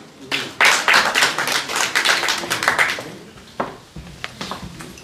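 An audience claps at a mushaira, an Urdu poetry gathering at the Pakistan High Commission in London, a dense round of hand claps that swells quickly, then thins to scattered claps before trailing off.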